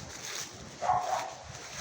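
A dog gives a short, strained whining howl at indoor distance, rising briefly in the middle of about two seconds and then trailing off into faint room noise.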